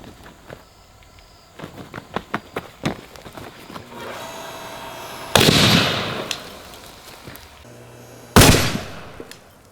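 A high-current electrical discharge blows apart a pipe fragment under loose C-clamps, giving a run of sharp crackling pops and then two loud, violent bursts that spray sparks.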